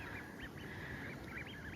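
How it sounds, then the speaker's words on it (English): Wigeon ducks call from open wetland water after heavy rain, a series of short rising whistles repeated at a distance over steady broadband background noise. "I can just about hear, can't see from here and the sun's on them. I think they're probably widgeon."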